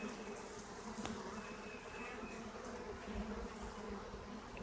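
A swarm of honey bees, a virgin swarm with many queens, hums in a soft, continuous drone with occasional nearer wingbeats passing by, and no talk.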